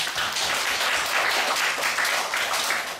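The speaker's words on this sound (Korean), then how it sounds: "우리 하나님께 영광의 박수를." A congregation in a church claps for God with dense, sustained applause from many hands, steady and fairly loud throughout, with no clear voices over it.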